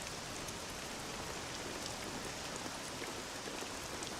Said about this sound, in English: This accursed rain'll chill ye to the bone.